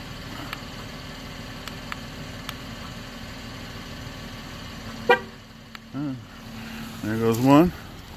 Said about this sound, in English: you should hear the car beep